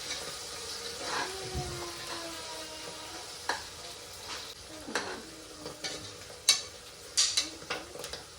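Fenugreek leaves fry in oil for a mutton curry, a soft steady sizzle close by broken by several sharp scrapes and clinks of a spoon stirring the pan, with no talking.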